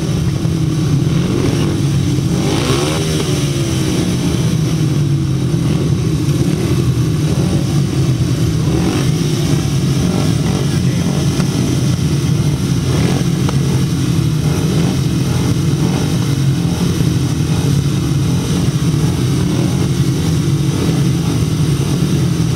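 Grasstrack racing solo motorcycles roaring away from the start, a loud, continuous blend of several engines droning and revving at close range, holding steady throughout with no voices.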